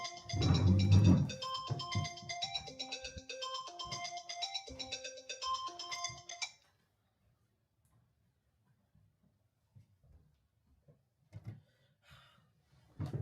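A phone ringtone plays as a melodic electronic tune, loud and close, for about six seconds, then stops. Quiet breathing and small handling noises follow.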